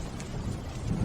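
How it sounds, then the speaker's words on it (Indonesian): Steady rain hiss with a low thunder rumble beneath, close and continuous for a brief moment, no voices. "Sekarang dengar petir."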